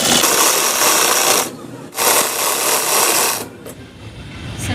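Close and loud, a sewing machine runs a basting seam on a peplum frock in short bursts: a whirring run, a brief pause, a second longer run, then silence with a faint click.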